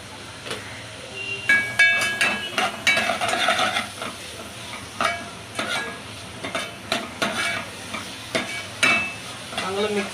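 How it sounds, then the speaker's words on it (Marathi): Finely chopped onion with a little salt fries in hot oil in a pan, soft sizzling under repeated scraping stirs of a spoon, close up and rhythmic, with no talk. "तेल गरम झाल्यावरती आणि हा बारीक चिरलेला कांदा"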